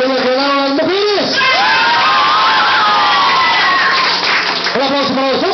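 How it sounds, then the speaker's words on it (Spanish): Loud applause and cheering from a crowd at a clown show in Tulancingo, Hidalgo, with children shouting and whooping over steady clapping, framed by an amplified voice talking at the start and end. "El aplauso a los niños que ganaron las mujeres."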